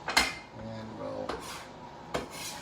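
A utensil mixes soy sauce into a dish in a quiet kitchen, making a few sharp clinks and scrapes against the dish spaced across a soft, low background.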